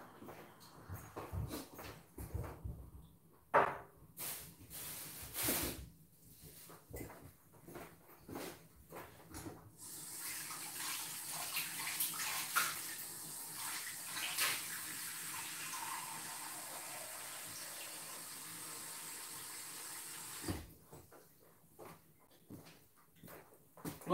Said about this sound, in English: Let me bring more water to add.